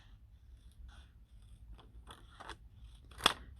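Scissors snip through material being cut for a miniature room, a handful of quiet crunchy cuts spread over a few seconds with one sharper, louder snip near the end.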